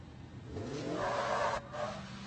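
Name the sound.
Polaris Pro R race vehicle launching off the Baja 500 start line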